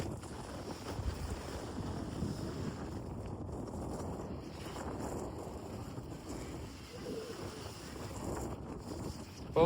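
Strong wind buffets the microphone at the hilltop Narayan Sarovar temple, a steady, loud rushing roar that continues without pause and with no talk over it.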